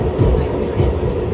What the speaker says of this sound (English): This is part of the original first subway lines, the IRT system, and we're right now we're under Lexington Avenue.